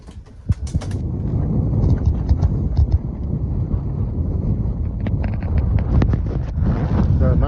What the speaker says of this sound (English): So it might be a little windy here at Sun and Fun.